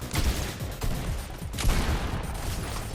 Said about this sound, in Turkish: Beni kim vuruyor lan arkadan?